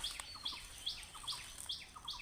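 A black drongo gives repeated chirpy calls in short bursts, roughly every half second, fairly faint against a quiet background.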